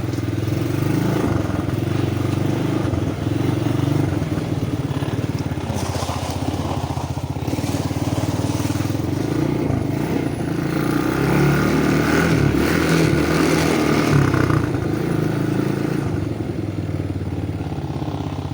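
An ATV engine idles and runs steadily at low revs, unloaded, for the whole stretch, a continuous rumbling drone with light mechanical clatter and no talking.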